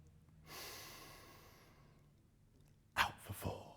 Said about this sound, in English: Regulate your breathing. Deep, slow breaths.